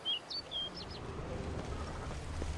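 Several short bird chirps in The Witcher 3, a few quick high tweets early on over a steady low ambient rumble, then fading into the background hum.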